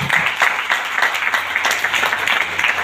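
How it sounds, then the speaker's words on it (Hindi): A crowd claps in sustained, dense applause, the hand claps blending into a steady patter that carries on throughout. "मैं चाहूंगा कि हमारे जितने भी सारे गुरु हैं उनके लिए एक जबरदस्त ताली लगना चाहिए"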